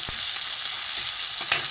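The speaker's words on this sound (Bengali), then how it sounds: "ভালো করে ভাজা হোক" Spices with crushed garlic, ginger and onion frying in a pan, a dense continuous close sizzle with a few brief scraping knocks of stirring.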